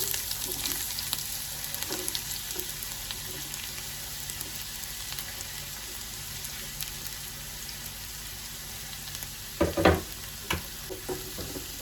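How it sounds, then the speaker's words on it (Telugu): Chopped onions dropped into hot oil for an egg curry, a steady soft sizzle throughout with a louder burst of stirring and clatter near the end. "ఇప్పుడు మనము కట్ చేసుకున్న ఉల్లిపాయలు వేసుకుందాము."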